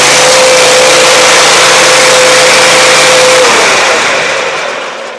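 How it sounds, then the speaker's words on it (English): Vehicle engine running steadily after an electrical repair and new spark plugs, a loud continuous droning roar with a steady hum, fading out toward the end. "It fires up now with little hesitation."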